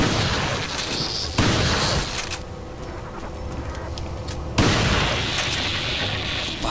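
Gunfire in the video game Resident Evil 4: loud, broadband blasts open the stretch and return near the end, separated by a quieter, hollow lull.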